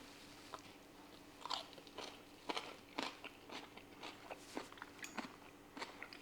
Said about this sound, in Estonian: Ma loodan, et krõmpsu kuulete.